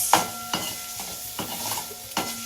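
Dal tadka tempering sizzling steadily in a pan while a spoon stirs and scrapes it, several distinct scrapes cutting through a soft, continuous frying hiss, close up.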